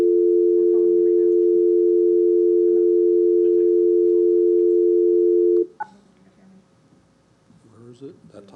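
At a St Cloud city council meeting, a telephone dial tone hums loud and unbroken for over five seconds as a call is placed, then cuts off abruptly, leaving faint room noise and soft voices.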